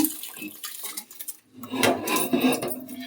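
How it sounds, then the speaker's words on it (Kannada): Washed rice tipped into a pot of heated water for boiled rice, giving a short clatter of metal pot and utensil with splashing, then a steadier watery wash of sound close by. "ಈಗ ಅಕ್ಕಿ ತೊಳೆದಿರೋದನ್ನು ಇದಕ್ಕೆ ಹಾಕ್ಕೊಳ್ಬೇಕು."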